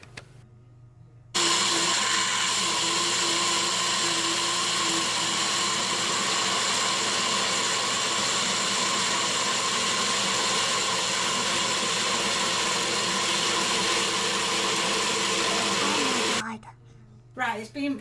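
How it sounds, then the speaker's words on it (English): A blender whirs loudly and steadily through soup for about fifteen seconds, starting abruptly and winding down near the end, with a low steady hum underneath. "Right, it's being blended as you saw."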